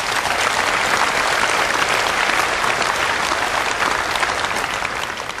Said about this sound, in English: They deserve from all of you a big round of applause,